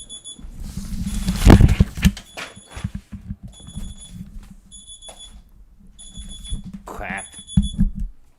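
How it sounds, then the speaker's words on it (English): An alarm clock beeps in repeated short bursts, sounding again and again under clattering, handling noises and a man's speech. "Okay, my alarm clock."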